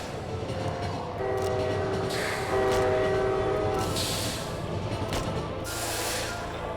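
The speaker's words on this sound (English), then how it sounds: "Unfortunately, though, I forgot about the train." A train rumbles past loudly in the video game Lobotomy Corporation, its horn blaring in sustained tones over a continuous heavy rolling roar, with hissing bursts toward the end and no voices.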